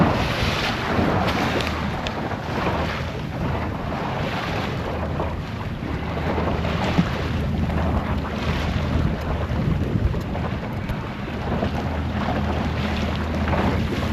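An M 17 keel boat sails off Oceanside, a steady wash of wind buffeting the microphone over the rush of water and waves along the hull, continuous and fairly loud with no talking.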